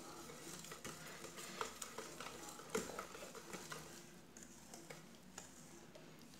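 Eggless vanilla cake batter is folded gently in a bowl, making faint, soft scraping and stirring strokes with light irregular taps, heard quietly with no one talking.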